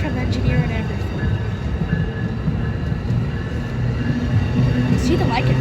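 An Amtrak passenger train rumbles steadily past nearby with rail clatter throughout, while voices are heard over it. No distinct horn blast stands out.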